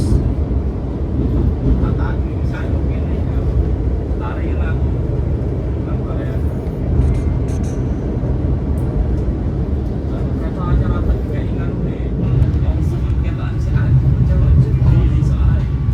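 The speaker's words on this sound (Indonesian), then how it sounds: "sesaat lagi kita melintasi jembatan Sungai Berantas" Passenger train crossing the Brantas river bridge in Indonesia, heard from on board as a steady, loud, low rumble of wheels on rails throughout, with no talk over it.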